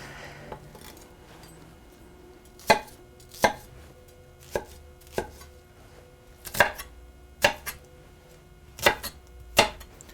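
A knife coarsely chopping an onion into medium chunks on a board: about a dozen sharp, separate thwacks in an uneven rhythm, close and distinct against a quiet room with no talking.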